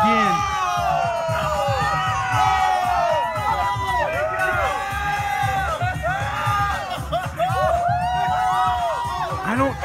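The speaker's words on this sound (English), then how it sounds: "And they're cheering more and more." A crowd at a spinning performance cheers and whoops loudly and continuously, with shouts and excited voices rising in waves throughout, near and dense.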